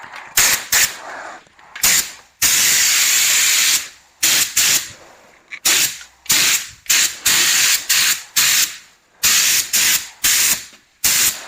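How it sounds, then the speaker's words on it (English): A spray gun mists a light tack coat of paint onto the lower half of a Vauxhall Nova SR, sounding as a string of loud hissing bursts, some short and some held for a couple of seconds, with brief gaps between them. "I'm just going to mist it in and give it a tack coat, and I'll give it a proper coat in a minute."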